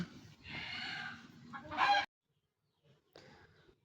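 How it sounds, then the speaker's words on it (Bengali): Chickens cluck and crow nearby: a drawn-out loud call, a brief pause of near silence, then another short cluck. "মুরগি চারদিকে অনেক ডাকাডাকি করতেছে"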